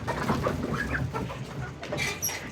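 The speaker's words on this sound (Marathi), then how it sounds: "हे गावठी कोंबडे आहेत." Desi village chickens cluck and chatter close by on a farm, a busy run of overlapping clucks and short calls with no talking.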